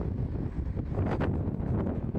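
Strong wind buffets the microphone with a continuous low rumble and gusty roar, no voices present.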